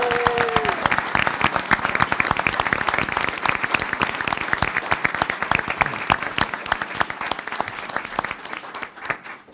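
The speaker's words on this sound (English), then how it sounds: "Let's give them a big round of applause" A school board meeting audience gives loud, sustained applause for high school graduates. Dense claps keep a steady pace throughout and fade slightly at the end, with a brief tone at the start.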